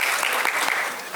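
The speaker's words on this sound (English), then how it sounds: "I think a round of applause to our panelists." An audience applauds panelists at a WHO session on HPV vaccination strategies at the ICASA 2025 conference, a brief steady burst of close, dense clapping that fills the room.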